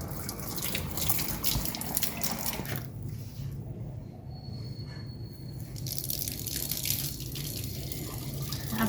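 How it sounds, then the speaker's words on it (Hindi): Tap water runs steadily into a sink while someone washes face and hands, with splashing and dripping through the clip, briefly thinning in the middle before the flow returns at full strength. "अब मैं पानी बंद करती हूँ और मुंह हाथ धोती हूँ।"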